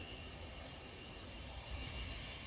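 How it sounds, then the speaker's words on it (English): A train passes through Hampton station in a steady, loud, close rumble of railcar wheels on track, with faint wheel squeal and no voices. "the second train is now coming"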